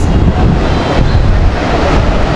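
Sea surf at Kuakata heard from a hotel rooftop, a loud continuous wash of waves blended with heavy wind buffeting the microphone.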